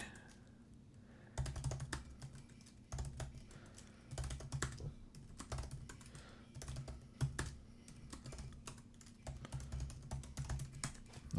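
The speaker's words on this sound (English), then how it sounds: "can't type and talk at the same time" Computer keyboard typing in quick irregular bursts, keys clattering close to the microphone with short pauses between runs, no voices.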